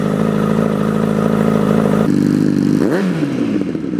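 A Honda CBR1000RR sport motorcycle engine starts and idles steadily with a rough mechanical rattle, then its pitch sweeps upward as it revs, close and loud.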